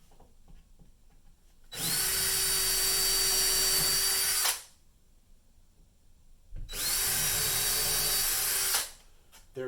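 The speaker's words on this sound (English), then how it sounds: "I'm going to take a very small drill bit and draw a pilot hole" A power drill with a very small bit bores a pilot hole into a wooden 2x4 wall stud, two steady whirring bursts of about three seconds each separated by a quiet pause.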